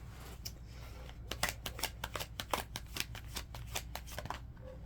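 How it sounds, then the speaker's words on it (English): Tarot cards are shuffled and drawn at close range, a rapid run of crisp riffling flicks and slaps over a steady low hum, with no voice. "So I'll pull on this Twin Flame card and see what all comes out there."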